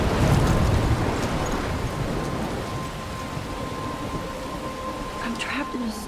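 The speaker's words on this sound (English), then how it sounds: "I'm trapped in a storm." Steady heavy rain and a rumbling thunderstorm in the video game Life Is Strange fill the whole stretch, with low thunder rolling early and pattering rain continuing throughout.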